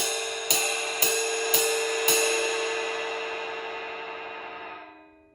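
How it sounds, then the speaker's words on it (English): A drum kit cymbal struck with a loose, open grip four times at an even pace, each hit blooming into a long, bright, shimmering wash that rings on and fades out after the last strike. "If I'm playing the cymbal with a nice, loose, open grip, it sounds like this."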